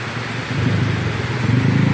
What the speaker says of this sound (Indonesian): Ini suasana gerimis ini.